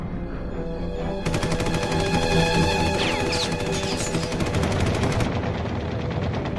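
Rapid machine gun fire rattles loudly as Soviet fighters attack an American bomber over Russia in 1954, a dense burst of shots over a steady engine drone, close and sustained for several seconds.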